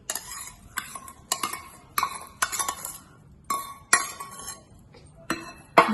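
Utensils clink and scrape in short repeated bursts as hot oil tempering with mustard seeds, cumin and asafoetida is poured into lemon pickle, the metallic strikes close and fairly loud with brief pauses between.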